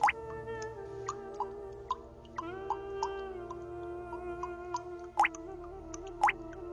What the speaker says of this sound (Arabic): هاي صوت المي دائما كتير بتزعجني.